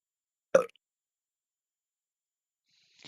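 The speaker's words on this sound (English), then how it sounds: "as we burp into the microphone" A single short burp-like vocal sound spoken close into a sports commentator's microphone during a football broadcast, followed by near silence and a faint brief noise at the end.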